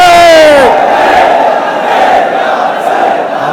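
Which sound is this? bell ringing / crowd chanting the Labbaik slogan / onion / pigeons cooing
crowd chanting the Labbaik slogan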